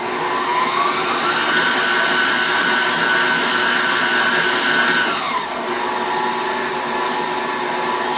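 An electric mixer runs steadily in a bowl of Italian S cookie dough, a loud continuous whir with a slight pitch drop near the end, without speech.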